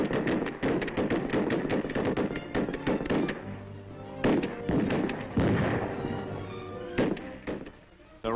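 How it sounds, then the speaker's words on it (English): Intermittent rifle fire on the Bureau headquarters rifle range in Washington: loud, dense bursts of sharp shots with brief pauses between them, echoing across the range, close and continuous through most of the stretch. "Intermittent firing."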